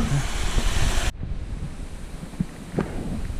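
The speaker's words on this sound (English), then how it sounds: "Found this amazing river." A river in Wales rushing steadily as a broad, noisy wash of water, with wind buffeting the microphone until the roar drops away abruptly partway through.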